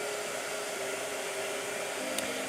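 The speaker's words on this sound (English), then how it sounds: "Blow dryer." A blow dryer runs steadily at close range, a continuous broadband whoosh with a faint motor whine, holding an even level throughout with no voices.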